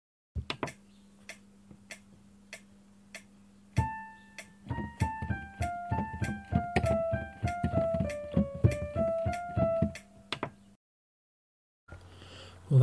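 Semiquaver passage from the Introitus of Mozart's Requiem: rapid detached string notes over a low sustained tone, then a descending line of quick notes, played alone and breaking off near the end.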